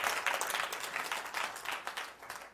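A church congregation bursts into brief, dense applause, many hands clapping at once, somewhat distant and fading.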